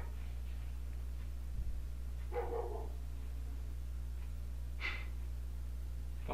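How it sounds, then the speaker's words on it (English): A house dog goes off indoors during a Carvana Wild Card Series race at Indianapolis, giving a few short, fairly faint barks spaced several seconds apart over a steady low hum. "apologize if you hear a dog barking."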